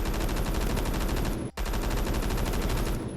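A G36 light machine gun in Roblox Phantom Forces fires in a steady rapid stream, loud and close, with a single brief break in the middle before the sustained burst continues.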